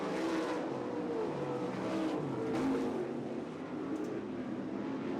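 Race cars in a heat race at a dirt track roar out of turn 4, a loud, sustained engine drone with rising and falling revs as the pack passes close by.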